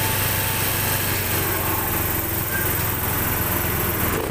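A Honda Spacy fuel-injected scooter engine revving steadily close by, its throttle slow to return, a constant buzzing whine that holds at one pitch without pause.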